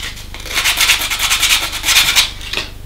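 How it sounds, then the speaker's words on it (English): Sandpaper rubbing back and forth on a wooden shaft from a Timberkits pirate model kit, close and loud, in steady rhythmic strokes with brief pauses, no talk. "sand and wax that shaft, because these have got to swing easily"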